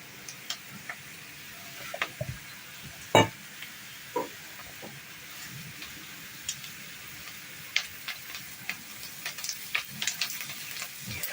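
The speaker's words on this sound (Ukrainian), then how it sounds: "І підсмажуємо, щоб морковка також підсмажилась." Chopped onion and carrot frying in a pan over a gas flame, a quiet, steady sizzle scattered with small pops and ticks, with no voices over it.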